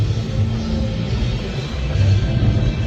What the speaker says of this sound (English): I have to blow the horn for about 5 seconds.